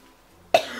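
A single sharp cough from someone with a long-lasting cough and a hoarse voice. It bursts out close and fairly loud after near silence, then trails off briefly.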